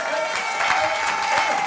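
A church congregation clapping and cheering in praise, a dense wash of applause with a voice carrying over the crowd.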